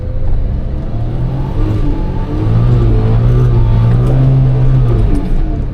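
A Suzuki Jimny JB23W in two-wheel drive churns through dry dirt with a loud, close, continuous engine drone that climbs in pitch as it revs.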